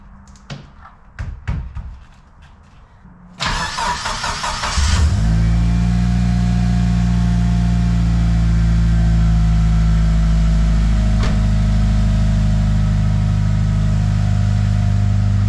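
A Mitsubishi Lancer Evo 6, fitted with a repaired starter that no longer sticks, has a few taps and clicks, then the starter whirs briefly. The engine fires and settles into a loud, steady idle with a deep rumble.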